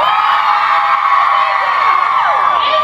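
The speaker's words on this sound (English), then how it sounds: "now everybody scream as loud as you can" A live convention panel audience screams loudly all at once, a dense, sustained wall of high shrieks and whoops from many voices that holds without pause for several seconds.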